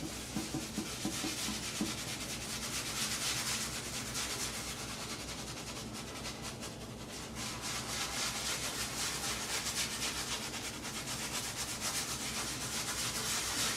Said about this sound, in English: Squeeze it out, shake out the excess, and we'll just start our lather.